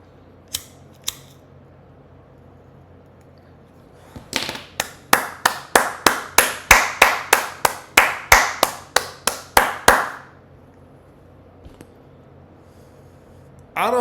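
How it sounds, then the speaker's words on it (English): One person claps in a quick run of about fifteen sharp, close, evenly spaced claps after a couple of isolated taps, then stops into near silence. "She get a smoking applause."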